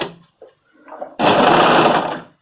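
A sewing machine stitches a French terry sweater seam in a steady, loud run of rapid needle clatter after a few soft handling sounds and brief pauses.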